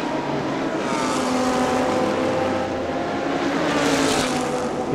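Race cars of the Thailand Super Series at Chang International Circuit warm up their tires behind the safety car, making a continuous loud drone of several engines blending together, with no talk.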